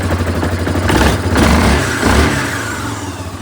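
A 2024 Yamaha Grizzly 700 ATV engine, started cold at around 36 to 40 degrees, running loud and close with a rough, uneven mid-range rumble that rises briefly as it revs and then settles back toward an idle.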